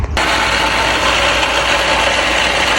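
A quad ATV engine running steadily and loudly up close, starting abruptly and holding a constant rumbling drone with no talk.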